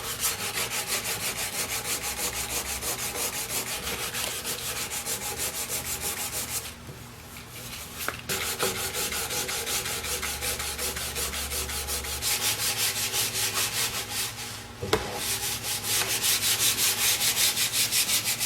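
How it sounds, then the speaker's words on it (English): Sandpaper rubs rhythmically against an old oak chair in long, steady strokes, pausing briefly twice before resuming, close up with no talking. "When we're done sanding that and blending it,"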